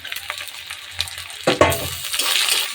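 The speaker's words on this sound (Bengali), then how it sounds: "এটা একটু লাল হওয়া পর্যন্ত ভাজবো" Onion frying in a pan before tomato and green chilli go in, a soft sizzle with scraping stir strokes, and a brief louder clatter partway through, close up with no voices.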